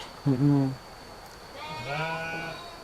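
Sheep bleating on a modern fattening farm: two loud, close bleats, one short and one longer, with a faint tone and quiet barn noise between them.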